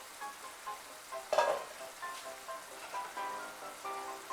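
Drumsticks and potatoes cook in a pan for a Bengali sojne data chorchori, giving a soft, close sizzle and bubbling with occasional louder spatters and a brief burst of crackling.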